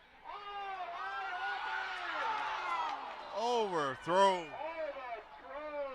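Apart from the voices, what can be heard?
football crowd cheering wildly at a high school game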